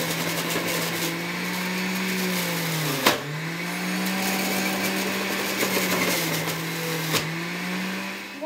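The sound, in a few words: juicer juicing whole carrots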